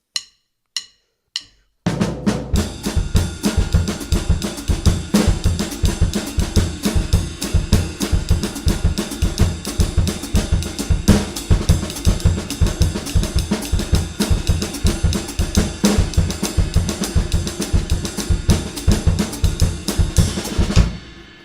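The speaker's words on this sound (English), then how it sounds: "it gives it this very cool American jazz sounding samba" A drum kit plays a steady, driving American jazz-style samba groove with busy rhythmic hits and cymbal wash, preceded by a few sharp count-in clicks.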